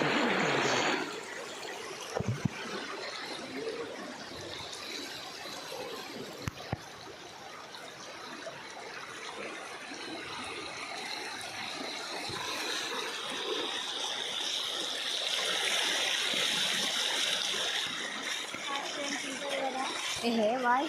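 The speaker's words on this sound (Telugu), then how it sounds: "చూసారు కదా ఎలా పోతున్నాయి నీళ్ళు." Flood water pouring over a filled canal, a continuous rushing, gurgling flow heard close and steady for about twenty seconds, with faint voices and occasional knocks.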